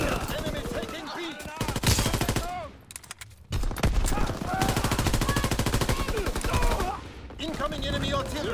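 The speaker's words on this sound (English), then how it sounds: "Enemy mortar fire incoming." Gunfire in the WWII shooter game Call of Duty, rapid machine-gun bursts and shots packed densely and loud, with a short lull near three seconds before the firing resumes.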